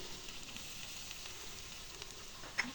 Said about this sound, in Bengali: একটু ফ্রাই করে নেব।